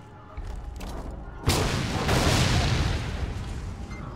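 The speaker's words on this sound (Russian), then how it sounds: "Не, понятно, что будет взрыв." Fuel barrels struck by a thrown spear in Mad Max explode with a sudden loud boom, followed by a long roaring, crackling blast that slowly fades.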